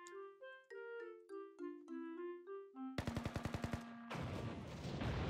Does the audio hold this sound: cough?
no